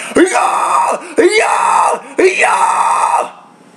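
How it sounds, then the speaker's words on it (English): Three long, harsh, distorted falsetto screams in a high vocal register, loud and close, each held for about a second with short breaths between. "that's exactly what I'm doing to produce that kind of scream"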